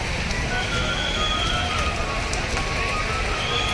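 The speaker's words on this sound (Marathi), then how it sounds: "खूपच अति जोरात पाऊस आहे" Heavy rain falls during a Palkhi pilgrimage procession of the Pandharpur wari in Akurdi, Pune, a dense, steady hiss and patter that fills the whole stretch without pause.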